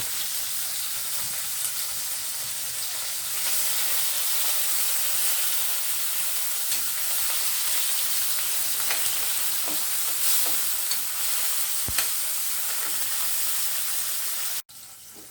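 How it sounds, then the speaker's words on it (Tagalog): Tomatoes and squid sautéing in a pan give a steady, close sizzle and frying hiss with occasional faint stirring scrapes throughout, no voices, ending abruptly. "Guys, igisa na natin."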